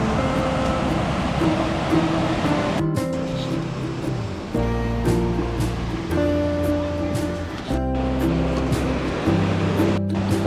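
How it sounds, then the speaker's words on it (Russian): Ahvenkoski, the largest of a cascade of lowland waterfalls on the Tohmajoki river in Karelia, gives a constant loud rush of falling water, with tonal music playing over it throughout. "Ахвенхоски – самый большой водопад из каскада четырех равнинных водопадов, которые вместе называются рускеальскими."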